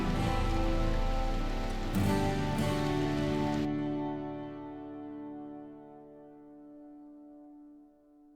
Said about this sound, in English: Ignore the sound of rain